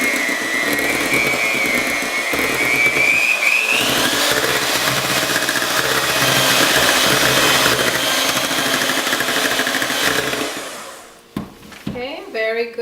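Electric mixer beating cheesecake batter, a loud steady motor whir running almost continuously with a rising pitch early on, then cutting off near the end followed by brief handling clatter.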